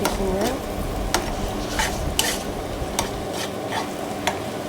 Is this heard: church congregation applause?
no